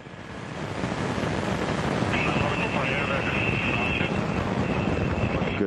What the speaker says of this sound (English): First stage engines are at maximum thrust. Main ready, liftoff.